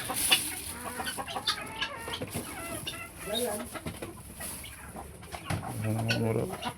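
Chickens and roosters on a small home farm cluck almost constantly, several birds close by with busy overlapping calls and a louder burst near the end, with a voice speaking at times.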